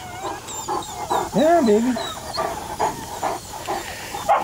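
A puppy named Cheyenne's pup gives a few whimpering yelps and a short bark, close and fairly loud, while someone talks over it in a cheerful, coaxing way.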